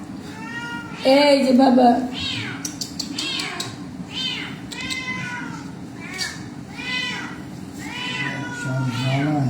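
A cat blind in both eyes meows repeatedly in loud, drawn-out wailing calls, close by, while a person talks over and between the cries.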